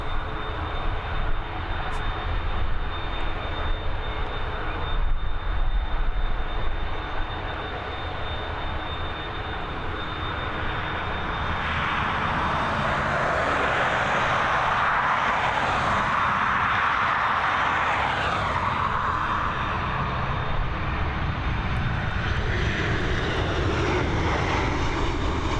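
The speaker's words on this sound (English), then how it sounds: "Our next arrival now upon us, coming in from Milan, this Boeing 737 operated by Ryanair" A Ryanair Boeing 737 arriving from Milan lands at Dublin Airport, a steady loud engine roar that swells in the middle as the jet passes close, then holds as a continuous rumble with no talk.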